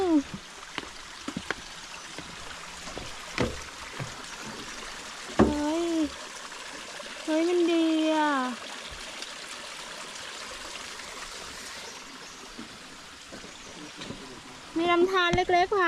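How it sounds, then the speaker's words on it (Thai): A small mountain stream trickles and babbles softly beneath a bridge on the Kiew Mae Pan trail, Doi Inthanon, Thailand, while people chat nearby, with a few brief bird calls and clicks. "มีลำธารไหลผ่าน"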